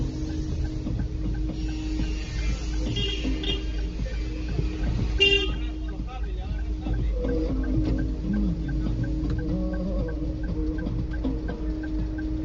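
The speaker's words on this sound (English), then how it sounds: "Foreign traffic noises piss you off." Busy street traffic in Lima, Peru, a steady roar of passing cars and engines with a few short horn toots and a repeating faint beep, all fairly loud and continuous with no clear talking.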